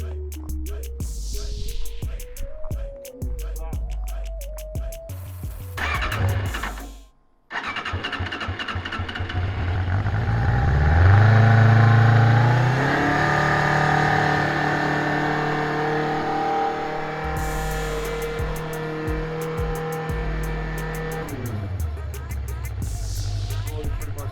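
A 600cc motorcycle engine fitted in a John Deere Gator cranks briefly, falls silent, then fires up and revs loudly with rising pitch, holding a strong steady roar before settling back toward idle.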